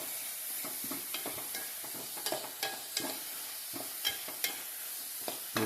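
Onions and tomatoes fry in a pan over a high flame, giving a steady soft sizzle broken by repeated scrapes and clinks as the mix is stirred. No voice is heard.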